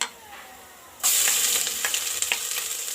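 A near-silent moment, then a sudden loud sizzle as garlic-ginger paste hits a hot pan for mutton karahi, hissing and crackling steadily with occasional stirring pops.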